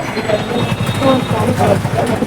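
Train at a railway station, a loud close rumble with rhythmic wheel clatter and mechanical drone, with voices mixed underneath.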